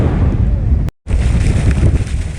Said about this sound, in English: It's a tad bit windy up here today.